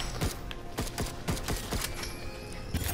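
Revolver in the game Alienation firing rapidly, about a dozen sharp shots in quick irregular bursts, loud and close over a low background hum.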